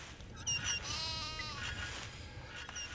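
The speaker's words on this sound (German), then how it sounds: "Die Ziege interessiert mich nicht," Goat bleating in the strategy game Die Siedler 4 (The Settlers IV): a wavering, nasal bleat in the middle, set among soft ambient game sounds and faint chirps, fairly quiet overall.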